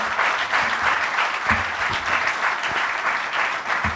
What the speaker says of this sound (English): one round of applause for them as well